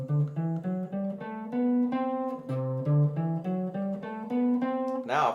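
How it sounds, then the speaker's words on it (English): A Lydian scale played over a slow blues in C: a quick, even run of clean, close melodic notes climbing and descending steadily over a sustained low tone, with no talking. "Here's your Lydian scale."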